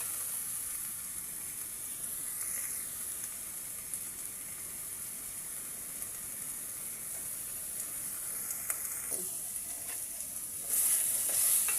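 Garlic paste sizzles steadily in a hot pan for a chicken-feet curry, with occasional soft scrapes of stirring and a brief louder burst of frying near the end; no one speaks.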